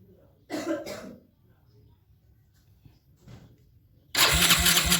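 A Kawasaki ZX motorcycle has its electric starter pressed, with a short cranking burst early on, a quiet pause, then the engine catching and running loud and close at the end.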